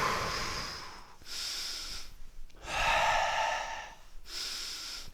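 Heavy breathing after a karate exercise: long audible breaths in and out, close and fairly loud, in a slow rhythm of about four breaths with short pauses between them.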